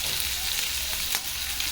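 Fish frying in oil in a pan, a steady, close broadband sizzle holding evenly throughout with no voices.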